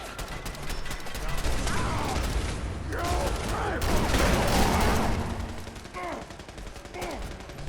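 Machine gun fire in the video game Fallout 4, heard as a dense, continuous clatter of shots under someone talking, at moderate loudness throughout.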